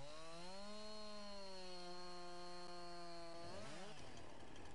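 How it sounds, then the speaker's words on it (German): A chainsaw in Farming Simulator 19 drones at a steady high pitch while cutting trees, then its engine note bends and drops sharply near the end, loud and alone. "Dann schnappen wir unsere geliebte Kettensäge."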